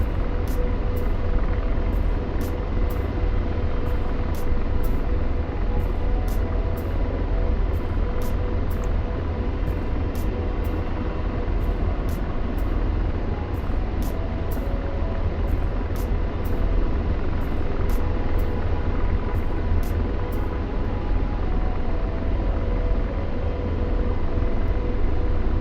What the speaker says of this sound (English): at least we got to fly a helicopter for a little bit tonight